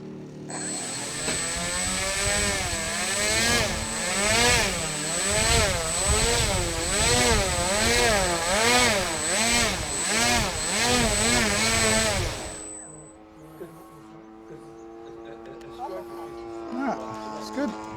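Electric motors on an Eclipson TWIN RC plane spin its propellers up into a loud, wavering whine with a high steady tone, then cut off abruptly at about twelve seconds, leaving a quiet background with faint talk.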